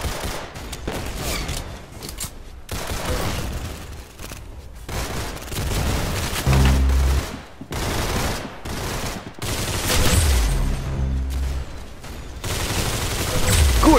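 Gunfire in the Roblox game Arsenal, rapid bursts of shots and repeated sharp cracks coming in clusters across the whole stretch, with low thumps and game noise between the volleys.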